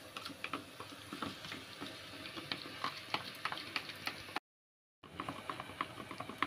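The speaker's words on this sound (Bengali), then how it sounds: "দিয়ে দইটাকে ভালো করে ফেটাবো।" A whisk or spoon works through yogurt mixed with salt, turmeric and chilli powder in a bowl, giving steady quick scraping and tapping strokes, with a brief silent gap partway.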